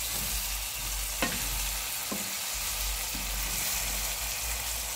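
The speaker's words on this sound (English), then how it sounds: "now I'll show you the brinjal is getting fried. This is how it must get fried." Brinjal (eggplant) pieces fry in a pan with a continuous, fairly loud hiss and sizzle, broken by a few brief knocks or clicks during the first couple of seconds.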